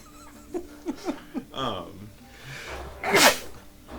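A few quick breathy inhales build up to one sharp, loud sneeze near the end, close by and otherwise quiet.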